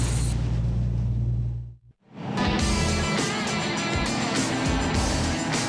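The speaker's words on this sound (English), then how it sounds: "The Auto 1 V8 Utes protected by Armor All are heading out to the grid." Auto 1 V8 Ute race utes heading out to the grid at Darwin's Hidden Valley Raceway, loud engine roar that briefly drops away to near silence before a burst of revving V8 noise returns and carries on.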